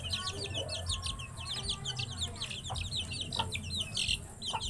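Two-week-old chicks peeping in rapid, overlapping high chirps, with a few low clucks and a constant low hum underneath.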